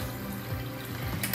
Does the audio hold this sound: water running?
yes